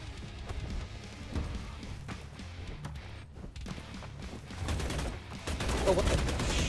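Gunfire in the BloodHunt game, a steady stream of quick distant shots and impacts under game noise and a talking player.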